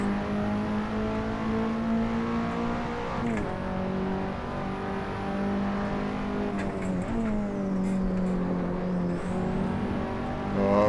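In Assetto Corsa, a KTM X-Bow race car howls around Silverstone, engine loud and continuous, revving up, dropping sharply on two downshifts, then climbing again, with a brief tyre squeal.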